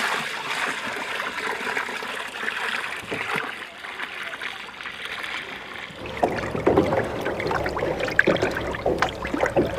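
Water sloshes and splashes as it is filled and stirred into a drum of organic pesticide, quieter trickling at first, then louder irregular splashing and churning close by.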